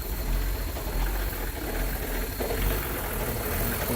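A 1986 BMW 524TD diesel engine with low miles idles with a steady, dense rumble that holds unbroken throughout, close by and fairly loud.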